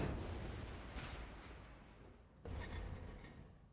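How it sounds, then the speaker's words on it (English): In the BattleTech video game, a missile barrage detonates in an urban area, with rumbling booms that trail into a long rolling decay, and a second heavy impact arriving partway through. "That was a lot of missiles."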